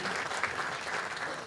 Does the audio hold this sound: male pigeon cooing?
no